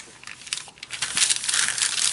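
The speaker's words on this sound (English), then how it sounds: "Pull it up on a piece of deli paper." Deli paper peeled up off a gel printing plate, a soft crinkling, sticky tearing rustle that grows louder toward the end, close and alone without talk.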